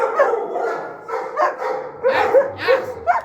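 Dog barking and yipping during protection training, a series of sharp, fairly close barks in uneven bursts, some higher-pitched and whiny, with short pauses between them.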